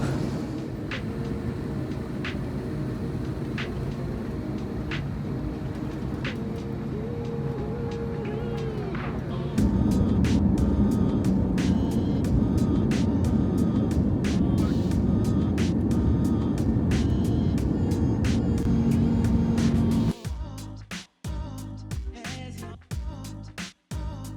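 A JetBlue airliner pushes back and takes off, heard from the cabin as a steady, loud engine rumble that grows heavier partway through, then gives way to rapid rhythmic thumps as the wheels roll down the runway.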